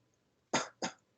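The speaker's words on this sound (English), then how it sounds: "if I press here, I'm going to cough" Two sharp coughs from one person, close and fairly loud, the second following the first about a quarter second later, with quiet before and after.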